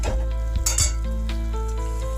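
Egg curry cooking down in a pan with a bay leaf, no onion or garlic, before coconut milk goes in; a steady close sizzle with stirring scrapes and a few light utensil clinks.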